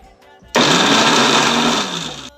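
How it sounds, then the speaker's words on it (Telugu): A mixer grinder crushes ginger and green chillies for corn vada, starting abruptly into a loud, steady whirring motor drone that runs for almost two seconds, dips slightly, then cuts off. "ఇందులో అల్లం పెసరేసిన మిరపకాయ మిక్సీ పెట్టుకుంటాం"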